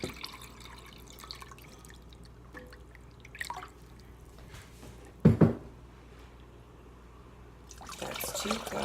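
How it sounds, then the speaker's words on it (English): Filtered cold water is poured into a crockpot in a kitchen: soft trickles and drips, a brief louder splash midway, then a steadier pour toward the end, close and fairly quiet. "now we're gonna put in some filtered cold water"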